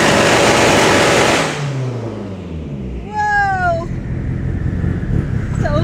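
Mitsubishi Evo 8 RS engine at wide open throttle with flames: a loud roar that drops away with a falling tone, then pops and a rising whine, close and loud throughout.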